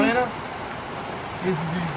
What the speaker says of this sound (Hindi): बहुत तेज बारिश हो रही है इस वक्त